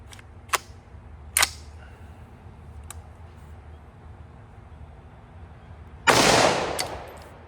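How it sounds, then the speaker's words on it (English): A rifle, either direct impingement or piston-driven, fires at a range: a few sharp, isolated cracks sound at irregular intervals, followed by a louder, longer blast of noise. "we're going to fire 10 rounds, and then we'll empty the mag"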